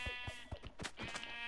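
Minecraft sheep bleating in a quick run of short, wavering bleats, close and fairly quiet, with no talking.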